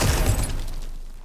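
Cracked ground smashed open in God of War Ragnarök, a single loud crunching shatter of breaking rock and debris that hits hard at once and then trails off into a fading rumble.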